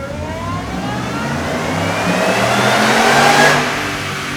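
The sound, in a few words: supercharged V8 truck engine revving on dyno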